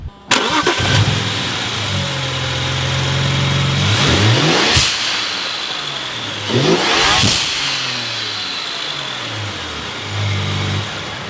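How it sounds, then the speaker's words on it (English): Car engine starting and then revving in two strong bursts during a turbo boost leak inspection, the pitch climbing and falling back to a steady idle, with a final lighter rev, close and loud with no talk. "We're actually gonna start the car and we're gonna rev it actually."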